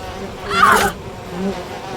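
Bees in the video game We Happy Few give a brief buzzing swell that rises and fades within about half a second over a steady low background hum.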